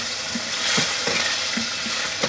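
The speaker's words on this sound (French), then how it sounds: "Là, on laisse bien mijoter la viande." Turkey escalope with curry simmers and sizzles in a pan over a stock of olive oil and poultry broth, a close, even crackle broken by soft bubbling pops and a few stirring scrapes.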